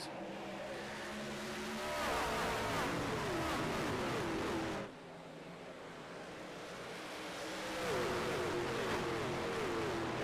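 Racing trucks in the iRacing Bluegrass Truck Series at Darlington, South Carolina, roar away at the green flag, a loud steady engine drone with rising whines from about two seconds, a brief dip near five seconds, then more climbing revs near the end.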